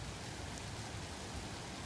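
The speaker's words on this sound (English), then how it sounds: "another squall might be passing through because the rain is getting harder again" Heavy rain pours steadily from a passing squall on an evening in Troutdale, a dense, unbroken wash of close rainfall with no gaps and no other sounds.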